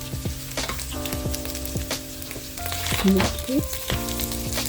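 Pork sizzling and frying in a pan while being stir-fried for Bicol Express, a steady close crackle with stirring scrapes, and a voice speaks a single brief word.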